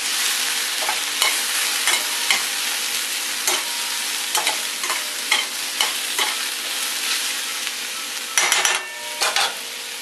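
Mushrooms sizzle steadily as they fry in a pan, with a run of stirring scrapes and clicks against the pan laid over the continuous hiss, close and fairly loud, with no talking.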